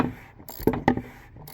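A bolt is tightened during an oil change on a 2019 Porsche Cayenne: a few close, quick ratcheting clicks and metallic knocks in short bursts, otherwise quiet.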